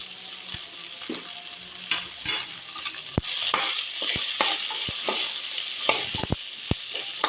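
Potato and capsicum fry with spices sizzling in a pan, stirred with repeated sharp spoon scrapes and taps against the metal over a steady frying hiss, close and without talk.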